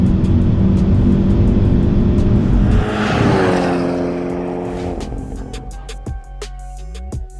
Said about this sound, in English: And now we're in NGS mode. Much faster shifts, a little bit more boost.